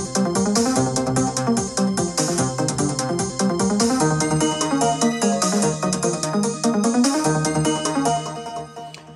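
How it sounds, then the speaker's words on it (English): Built-in synthesizer and percussion sounds from the iSequence sequencer app on an iPad fill a dense, steady electronic groove, with bright busy drums over shifting synth lines, loud and continuous throughout. "Has a lot of good built-in synthesizer and percussion sounds like this."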